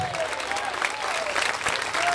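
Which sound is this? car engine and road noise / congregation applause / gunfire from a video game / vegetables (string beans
congregation applause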